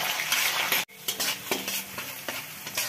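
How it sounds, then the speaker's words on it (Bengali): Sliced onion fries in hot oil with bay leaf, cardamom and cinnamon, sizzling loudly and close while a spatula stirs and scrapes the pan in irregular strokes, with one brief pause. "পেঁয়াজটা একটু ভেজে নেই।"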